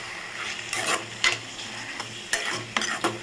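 Tomatoes sautéing for a veg keema curry, stirred in a pan with repeated scraping strokes over a soft sizzle, close and fairly quiet with no talking.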